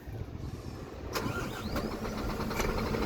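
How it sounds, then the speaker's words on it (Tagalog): A 2023 Scania truck with an engine fault cranks and starts, a steady low diesel rumble with a few sharp clicks and whirring, heard close for a few seconds. "Start ko yung makina."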